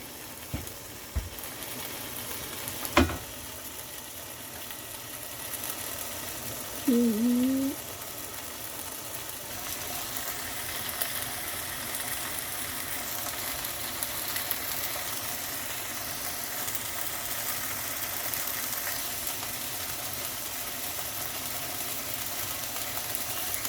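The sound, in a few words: camping cooker fired up, food frying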